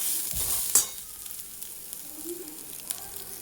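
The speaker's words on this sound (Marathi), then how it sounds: "नारळाच्या खिसाला तुपामध्ये छान घेऊयात परतून" Grated coconut sautés in ghee for sweet coconut vadi, a soft crackling sizzle under a stirring scrape and a light utensil knock, then quieter frying with small pops.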